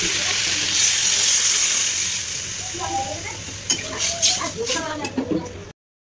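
A pan of Bengali fish curry with papaya and potato cooks on the stove, giving a steady sizzle and hiss for the first couple of seconds before quieter simmering with light clinks and stirring sounds close by.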